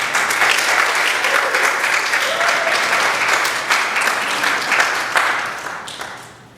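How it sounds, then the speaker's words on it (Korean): A church congregation applauds to welcome a returning guest with full, steady clapping that holds strong for several seconds before gradually fading out near the end. "다시 한번 박수로 환영하겠습니다"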